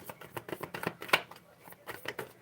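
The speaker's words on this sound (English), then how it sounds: "let's shuffle bottom of the deck" A deck of Bible verse cards being shuffled, with a rapid run of crisp papery riffles and flicks up close, one sharper snap near the middle, heard alone without talk.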